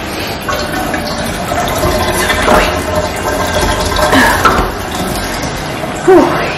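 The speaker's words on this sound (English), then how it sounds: "So I'm gonna start a bath over him, here for him." Water runs steadily from a tap into a home bathtub being filled for a bath, a continuous rushing splash with a few brief clunks and shifts, and a voice speaks softly beneath it.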